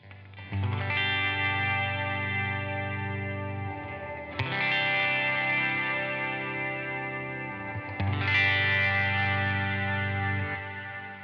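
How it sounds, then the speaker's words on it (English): Sustained electric guitar chords drenched in reverb from a Strymon BigSky pedal, three strums each ringing out long and slowly decaying, with a lush, spacious wash. "This is just the reverb we just dialed in."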